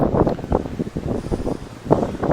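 Strong wind buffets the microphone outdoors at a coastal fort. The gusts come as a continuous low roar with surging rises, and no voices are heard.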